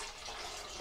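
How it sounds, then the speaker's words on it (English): Boiled kettle water pours into a pressure cooker pot in a short, steady, fairly quiet splashing stream with no talk. "I've boiled a kettle and I shall add that to it"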